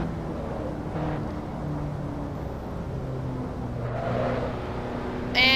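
A racing car engine drones through a lap in Assetto Corsa, a steady mid-pitched hum with shifting tones as revs rise and fall. It swells toward the end and plays continuously with no talking.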